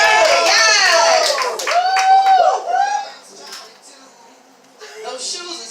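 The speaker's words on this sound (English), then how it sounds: "Y'all better clap it up for her." An open mic audience claps for a poet heading to the stage at a poetry show, loud scattered applause mixed with cheering voices and whoops that fades after a few seconds.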